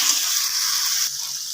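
Spice masala fries in a pan for a vegetarian cabbage dish, a brief bright hiss that stays close and fairly loud, then eases slightly near the end.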